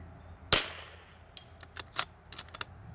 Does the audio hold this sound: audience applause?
no